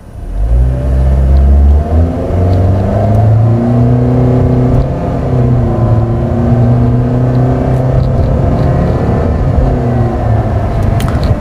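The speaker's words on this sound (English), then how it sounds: "it makes a sound. It's quite loud." A Toyota Veloz with a CVT gearbox pulls away uphill on a slope, its engine droning loudly and steadily with a rising whir and no pauses. No one talks.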